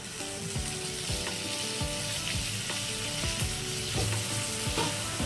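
Pointed gourd (potol) frying in an oil-slick cooked poppy seed spice paste, a steady close sizzle with repeated scraping stirs of a spoon against the pan, no voices.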